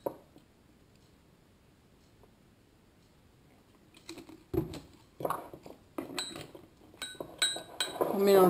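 A spoon stirs blackcurrant mug cake batter of sugar, vanilla sugar, oil and milk in a mug, quiet at first, then a run of close, bright clinks and scrapes against the mug's side in the last few seconds.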